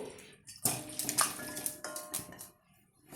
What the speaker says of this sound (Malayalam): കുറച്ച് വെള്ളം ഒഴിച്ച് നമുക്കിതൊന്ന് നന്നായിട്ട് വേവിക്കാം